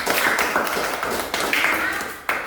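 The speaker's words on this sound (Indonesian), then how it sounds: "Tepuk tangan untuk kita semua." Schoolchildren in a classroom clap their hands together, producing a dense burst of close, bright claps with a few sharper accents throughout.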